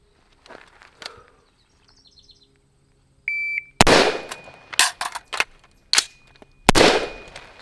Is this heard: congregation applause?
no